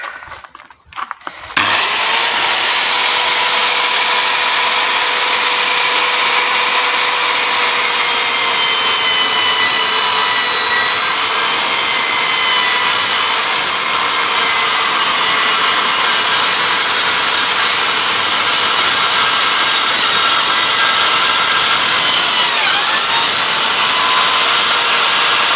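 A power saw cuts steadily through wood on a workbench fitted with sacrificial wood pieces underneath, part of building an upper cupboard; the loud, continuous whine holds almost unbroken for about 25 seconds after a brief start.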